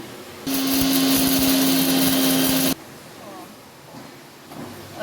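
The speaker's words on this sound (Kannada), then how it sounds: "ಮಿಕ್ಸಿಗೆ ಹಾಕಿದ್ದೀನಿ. ಫೈನಾಗಿ ಪೇಸ್ಟ್ ರುಬ್ಕೊಂಬರೋಣ." A kitchen mixer grinder whirs loudly as it grinds a whole head of garlic and an inch of ginger into a fine paste for Guntur chicken gravy, running steadily for about two seconds before stopping abruptly into quiet room noise.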